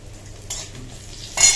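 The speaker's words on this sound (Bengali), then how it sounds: "এখানে দেখো এই যে ডাল ফোড়ন দেবো এখন" Dal being tempered with spices in hot oil: a soft stirring clatter, then a brief sizzling burst and a louder hiss at the end, close and without talk.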